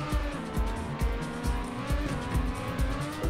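Race car engine in the TrackMania video game, a loud steady motor roar with rhythmic thumps and tire squeal as it accelerates, constant throughout with no talk.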